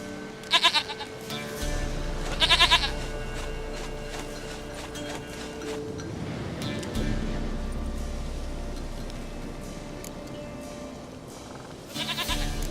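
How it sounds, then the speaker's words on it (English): Goat bleating in The Witcher 3, several loud wavering bleats in short bursts near the start and again at the end, over a steady droning game ambience with faint hoof clip-clop. "Goat of mine, dearest, sweetest goat."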